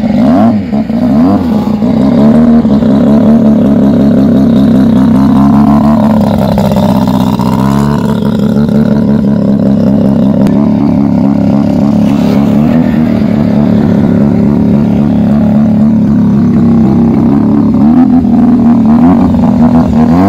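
Superbike engine fitted in a lightweight buggy with no body, revving hard and continuously at close range, its pitch climbing and falling through repeated throttle blips with a loud, raspy mechanical roar.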